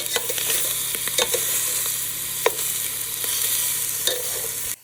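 Meatballs brown in a hot pan for sub sandwiches, a loud continuous sizzle broken by a few sharp clicks and scrapes as they are nudged and turned, with no voices.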